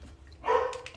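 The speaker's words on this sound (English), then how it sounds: "Excuse my dog barking in the background." A dog barks in the background, a short mid-pitched burst of yips or barks heard from some distance, fairly faint beneath room noise.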